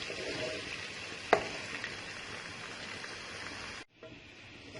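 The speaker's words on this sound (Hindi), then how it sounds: "और 3 से 4 मिनट हम इसे बहुत ही अच्छे तरीके से फ्राई करते हैं" Onion with ginger-garlic paste fries in a pan with a steady, fairly quiet sizzling hiss. One sharp utensil tap breaks in early, and the sound drops out briefly before the frying resumes.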